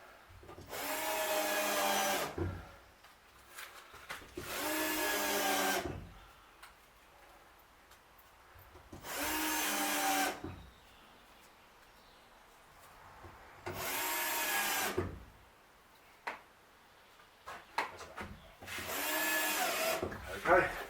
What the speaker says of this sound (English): you're going to work your way up there and screw them all in